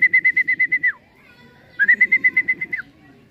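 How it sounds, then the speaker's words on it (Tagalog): Birdsong-like calls from a racing pigeon's arrival at a home loft during self-toss training: two bursts of rapid, evenly pulsed whistling notes, each about a second long and ending in a falling slur, separated by a quiet gap. "Meron tayong dumating na ibon."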